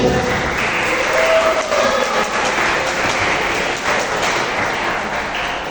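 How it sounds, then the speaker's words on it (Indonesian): An audience applauds at a creative writing workshop held at a vocational high school, a dense, continuous wash of many hands clapping at fairly high volume with some voices mixed in. "tepuk tangan untuk Pak Husein."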